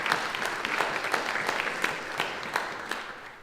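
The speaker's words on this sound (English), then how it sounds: "Indeed, we should applaud that" A church congregation applauds a guest speaker, a steady patter of many hands clapping at moderate distance, fairly even throughout with a few sharper claps standing out.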